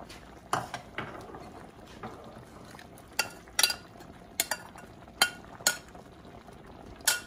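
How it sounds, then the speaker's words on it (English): Mushrooms are stirred back into a thick chicken stroganoff sauce, with a soft bubbling bed under scattered sharp clinks of a spoon against the pan, close and irregular, and no one speaking. "Now we are going to add our mushrooms back in."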